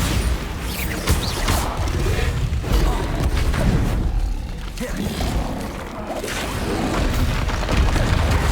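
Bombardo explosion spells in Hogwarts Legacy, a run of dense booming blasts and crashing impacts that fill the clip without a break, loud and close, with game clatter layered in.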